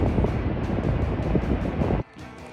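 Ocean surf at Tofino on a freezing day roars as a loud, wide, steady wash of waves mixed with wind buffeting the microphone, then drops sharply quieter near the end.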